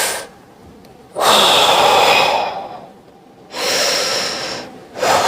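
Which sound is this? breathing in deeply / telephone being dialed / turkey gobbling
breathing in deeply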